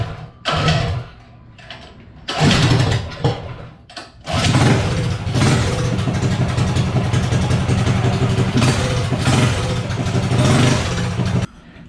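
A Predator 212 small engine fitted with a GX160 cylinder head is pulled over with a few short mechanical bursts, then catches and runs loudly and steadily, with a clattering, close-up roar until it cuts off.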